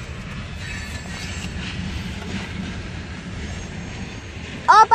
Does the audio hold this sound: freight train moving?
yes